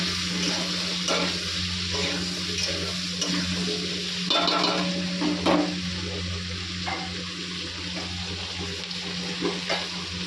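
Food frying in a pan at home, a continuous close sizzle with occasional stirring scrapes and a steady low hum in the background.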